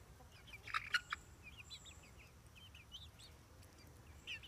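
Barred Rock chickens cluck on a homestead, a few sharp close clucks early on, then softer scattered chatter over a low background hum.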